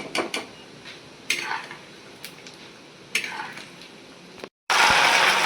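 Fried gram (pottukadalai) being roasted in a pan, with intermittent scraping and rattling strokes of a spoon against the metal, close and moderately loud, then a brief cut and a louder hiss.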